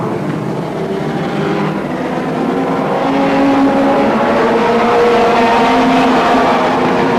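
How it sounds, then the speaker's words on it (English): Formula 2 race cars lap the Northampton oval at a Grand National Championship qualifying event, their engines roaring loud and continuous as several cars pass close by. "this Grand National Championship qualifying event over 16 laps for the Formula 2 cars"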